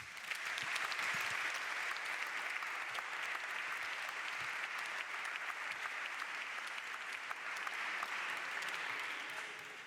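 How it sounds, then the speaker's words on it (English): Sustained applause from the audience at a panel discussion, a dense, even roar of many hands clapping for about ten seconds, fairly distant and steady throughout. "A big applause for this round of wonderful people."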